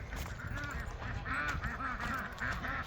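A flock of ducks quacking and honking close by on a farm, overlapping nasal calls in a continuous, busy chorus.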